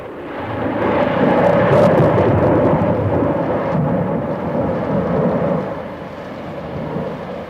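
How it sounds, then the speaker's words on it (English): Thunder rumbling in a spoken-word recording about rhythms of the world, a broad, loud low roll that swells early, holds and slowly fades, with no voices over it. "Thunder."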